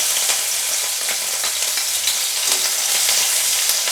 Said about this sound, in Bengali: লঙ্কা কুচিটা একটু ভেজে নিয়ে, দেখুন লঙ্কা কুচিটা ভালো ভাজা হয়ে গেছে।